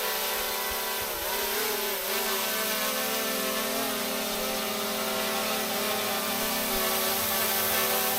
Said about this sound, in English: Let me just bring the drone a little bit closer.